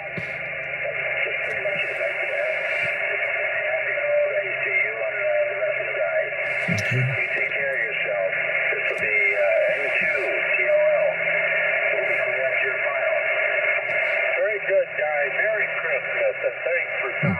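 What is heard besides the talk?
noisy amateur radio reception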